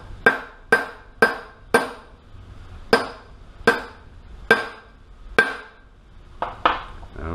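Sharp metallic hammer blows on a motorized bicycle engine part ring out one after another, about a dozen strikes at a steady, slightly uneven pace, close and loud with a bright ringing tone.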